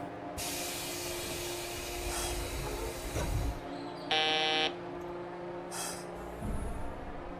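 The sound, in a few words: guard buzzer in Running Train simulator video game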